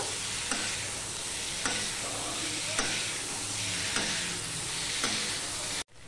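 Fried spiny gourd pieces tossed into a hot pan of spice mix sizzle steadily and are stirred, with regular scraping strokes about once a second, close and continuous, before the sound cuts off abruptly at the end.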